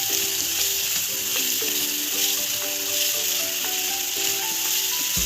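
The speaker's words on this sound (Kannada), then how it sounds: "ಈಗ ಈರುಳ್ಳಿ ಫ್ರೈ ಆಗಿದೆ, ಗೋಲ್ಡನ್ ಕಲರ್ ಬಂದಿದೆ" Sliced onions frying golden brown in hot oil, a steady loud sizzle and hiss that continues without a break, with a soft rhythmic stirring and scraping beneath it.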